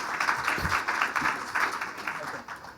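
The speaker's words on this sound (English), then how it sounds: "Please give John a round of applause" Audience applause at a 2015 education technology forum, a steady wash of many hands clapping for a teacher-of-the-year honoree, moderately loud and continuous with some murmuring mixed in.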